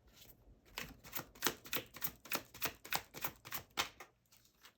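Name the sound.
shuffling a deck of tarot cards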